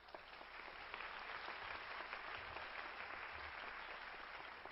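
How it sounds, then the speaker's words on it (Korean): Audience applause welcoming a speaker to a university lecture, steady sustained clapping from a large crowd, even and continuous throughout, heard at a distance and fairly faint. "나오실 때 박수로 환영해 주시면 감사하겠습니다"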